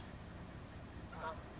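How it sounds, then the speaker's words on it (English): Geese call faintly in the distance on a farm with cattle, a short burst of honking rising briefly above steady outdoor background noise. "I hear geese."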